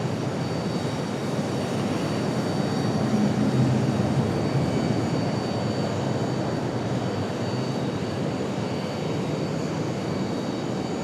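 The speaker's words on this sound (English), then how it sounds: "here comes US Air, this is our CRJ from JFK" A US Airways CRJ regional jet arrives at Raleigh-Durham, its steady engine roar holding loud and close throughout with no speech.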